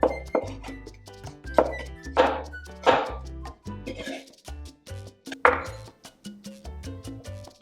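A kitchen knife slices peeled garlic cloves thinly on a cutting board, giving a quick series of sharp, close taps and clicks in uneven bursts, with brief pauses between strokes.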